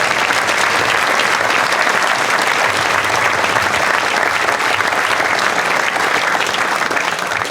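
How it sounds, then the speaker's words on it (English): A commencement audience claps steadily and loudly, a dense unbroken wash of applause from a large crowd that holds at full strength throughout. "Please join me in a round of applause for his care and leadership"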